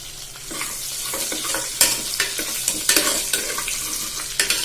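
Curry leaves and green chillies frying in a pan, a continuous close sizzle broken by repeated sharp crackles and spatters plus stirring scrapes, with no talking.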